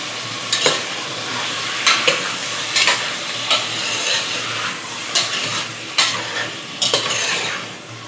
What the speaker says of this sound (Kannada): ಮಟನ್ನ ನಾವು ಆಯಿಲಲ್ಲಿ ಚೆನ್ನಾಗಿ ಫ್ರೈ ಮಾಡ್ಕೋಬೇಕು